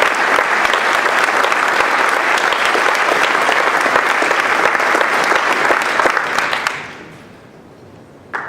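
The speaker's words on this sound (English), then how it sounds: "a round of applause for Coach and his family" A crowd applauds loudly and steadily for several seconds, then the clapping fades out into a quiet room.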